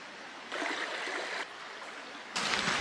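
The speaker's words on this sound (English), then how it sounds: "we've come to a super quiet part of the creek" Steady broadband rushing of a flowing jungle creek, close and fairly loud, swelling in intensity a couple of times; no voices.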